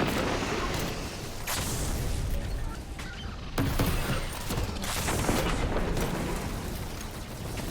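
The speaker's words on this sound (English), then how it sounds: "I'll fire a rocket there." Rocket launcher fire and explosions in the Destiny 2 Platinum K1 Logistics Legend Lost Sector: a dense, continuous rumble of blasts and gunfire with several sharp bursts and one louder boom midway, steady and close throughout.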